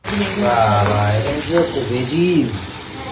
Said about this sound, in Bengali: ভেজিস ফ্রাই হচ্ছে, ব্রোকলিটা এখন ফ্রাই করে নিচ্ছি একটু হালকা করে, জাস্ট তেলে এপিটোপিট